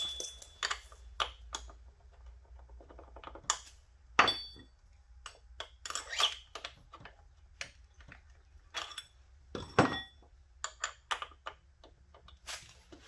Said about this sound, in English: I'll just drive the bolt home